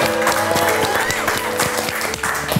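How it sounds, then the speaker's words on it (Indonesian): Studio audience applause on an Indonesian talk show, a steady burst of clapping from a crowd with some murmured voices mixed in. "Kita kasih tepuk tangan dulu."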